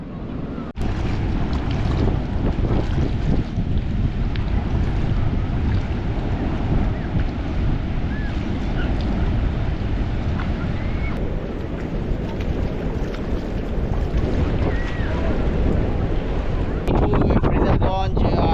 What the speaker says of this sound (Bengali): জোয়ার আসছে, এই জন্য ঢেউগুলো বেশ বড় বড় উঁচু উঁচু